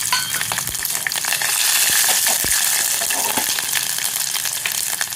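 Mustard seeds, chana dal and garlic frying in hot oil, a loud continuous crackling sizzle with stirring scrapes, close and steady throughout.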